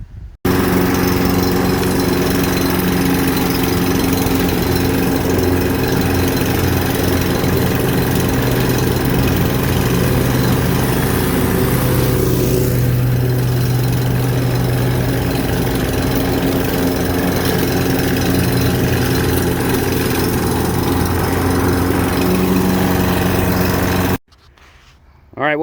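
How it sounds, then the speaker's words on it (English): A large lawn mower's engine drones loud and steady while it cuts weeds, running continuously for most of the stretch before cutting off near the end. "We'll get out the biggest mower ever and spend 1 minute mowing all of this"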